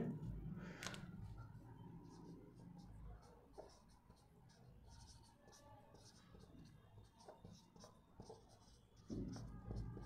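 Chalk or marker writing on a board during a Hindi lecture on DC motor speed control, heard as scratchy strokes and taps through the clip, with quiet room sound and intermittent talk.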